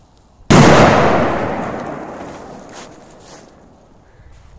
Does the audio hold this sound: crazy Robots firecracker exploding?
yes